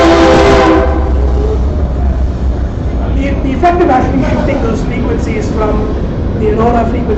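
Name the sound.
train passing by, whistle pitch changing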